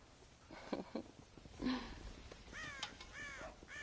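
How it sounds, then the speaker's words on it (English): Crows caw in the Western video game Red Dead Redemption, several harsh, raspy calls spaced irregularly over a few seconds at a moderate distance, faint overall against a quiet background. "God damn crows!"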